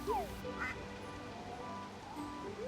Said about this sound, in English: Also, there's ducks.